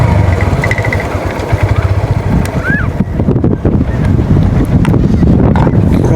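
Motorcycles labor up a steep, difficult mountain track on the way to Qaqlasht Meadows in Chitral, a loud continuous engine drone heavily buffeted by wind noise.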